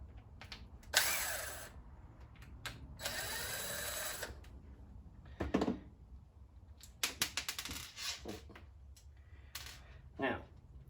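A small driver whirs in short bursts and clicks while removing the two screws holding together a Traxxas T-Maxx differential, the bursts separated by quiet handling noises at close range.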